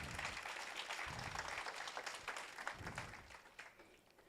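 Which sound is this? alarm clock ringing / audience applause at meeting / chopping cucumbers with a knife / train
audience applause at meeting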